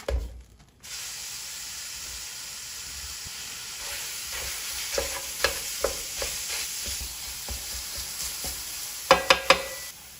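Extra lean ground beef browning in a pan, a steady soft sizzle with intermittent scraping and stirring clicks that grow sharper toward the end, with no talking.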